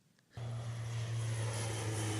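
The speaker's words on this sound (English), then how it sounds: "health authorities have sprayed a pesticide from airplanes to kill the mosquitoes that carry Zika" An airplane spraying pesticide against Zika-carrying mosquitoes passes as a steady engine drone, which begins abruptly after a short quiet moment and then holds loud and even, with no talking.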